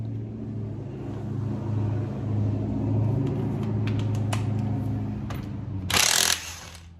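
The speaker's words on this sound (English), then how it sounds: "Here comes somebody going to drive by." A car drives past on a road, a soft low rumble that grows and then fades, ending with a brief loud burst of noise.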